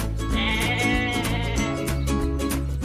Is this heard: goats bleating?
yes